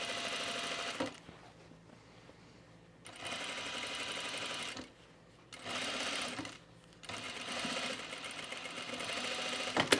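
A sewing machine stitches through thick blazer fabric in three long, steady whirring runs, separated by short pauses. The sound is close and even, with no talking.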